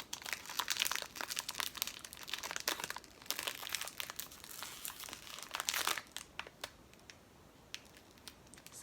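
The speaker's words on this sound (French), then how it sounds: "Donc je vais ouvrir le paquet." Plastic packaging of a plush toy crinkles and crackles up close in a rapid, irregular series of rustles, loud at first and then growing sparser and quieter.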